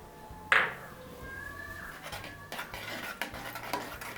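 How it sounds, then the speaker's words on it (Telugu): A spoon stirs tomato dal in a metal pot, opening with one bright clink followed by softer scrapes and taps against the sides. The sound is quiet and close, with no talking. "ఇవన్నీ కూడా బాగా కలుపుకోవాలి."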